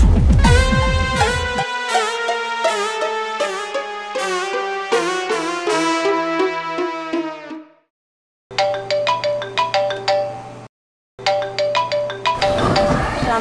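A phone ringtone plays a loud, bright melodic tune close by. It repeats in phrases separated by two short silent gaps.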